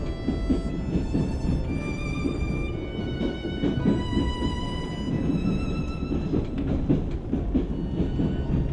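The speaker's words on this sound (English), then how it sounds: "the train pulled out" A cattle train pulls out with steady rail rumble and rhythmic wheel clatter over the tracks, some faint metallic tones on top, continuous and fairly close.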